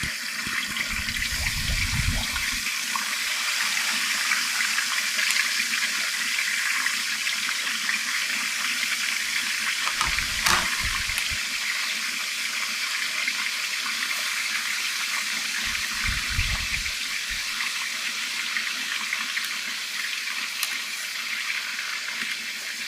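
Chicken thighs dropped into very hot oil and frying, a loud, steady hiss and crackle running throughout without pause, with a few brief low thumps from the pan.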